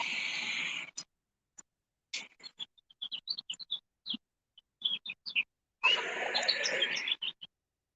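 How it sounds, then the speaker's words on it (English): Birds chirping outdoors on a warm, breezy day: scattered short tweets and calls, some near and some farther off, with brief stretches of wind noise between them and no talking. "I love listening to the birds."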